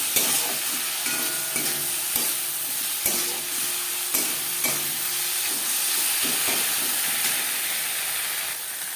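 Turmeric, ginger paste and green chilli paste fry in a pan and are stirred, making a loud, continuous hiss and sizzle broken by regular scrapes of the spoon, with no one talking.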